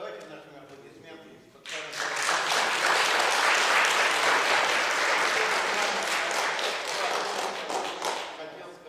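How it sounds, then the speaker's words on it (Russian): An audience at a French horn concert bursts into loud, sustained applause close by right after someone speaks, the clapping swelling and holding steady before slowly easing. "Давайте нашим аплодисментам."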